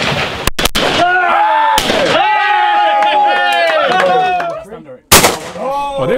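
A loud, sharp gunshot rings out during rabbit hunting in New Zealand, cutting through excited shouting voices, with more abrupt cracks near the start.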